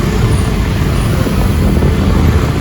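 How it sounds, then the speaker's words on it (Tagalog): Heavy road traffic in Manila near a footbridge, loud continuous rumble of cars, trucks and buses passing close by, a dense low roar with no break. "Sobrang traffic po"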